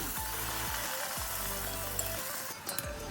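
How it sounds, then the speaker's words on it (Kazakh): Baursak dough frying in hot oil in a kazan, a steady close sizzle and bubbling hiss running throughout with a few soft stirring knocks. "Осылай бауырсағымыздың барлығын жақсылап қуырып алдық."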